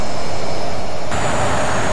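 Jet engine drone of a Grumman A-6E Intruder, a Vietnam-era attack aircraft, in a flight simulator game: a steady, loud whine and rush that brightens partway through, with no talk.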